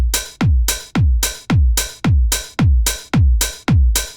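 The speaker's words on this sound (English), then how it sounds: "a steady pulse of a low drum, usually a kick drum or a bass drum, that happens on every beat in a 4/4 measure, like this." Kick drum playing a four-on-the-floor beat in 4/4, eight evenly spaced, loud, punchy low thumps with a quick decay, heard close and alone.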